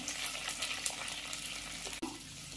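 Curry leaves and garlic sizzle steadily in hot oil for a brinjal kuzhambu, a dense, continuous frying hiss with a brief stir or clatter near the end and no talking.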